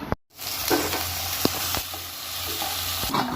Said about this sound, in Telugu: ఆయిల్ అయితే వేడెక్కింది ఉల్లిగడ్డలు వేసుకుంటున్నా